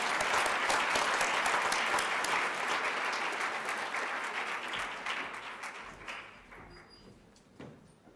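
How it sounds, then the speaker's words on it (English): An audience at a university student service and leadership awards ceremony applauds the memorial award recipients with a dense, sustained roar of clapping that slowly tapers off near the end. "recognize all the Yuguru Bates Memorial Award recipients through our applause"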